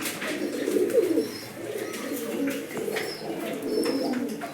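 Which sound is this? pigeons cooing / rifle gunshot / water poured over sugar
pigeons cooing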